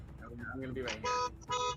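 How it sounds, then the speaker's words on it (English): A car alarm honks in two loud, sustained blasts near the end, following people chatting casually together. "That's the sound of an alarm."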